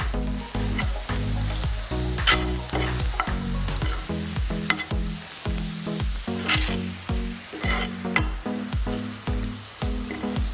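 Beef sizzling and frying on a tawa with spices, continuous loud crackling sizzle with repeated stirring scrapes throughout, close up and with no talking.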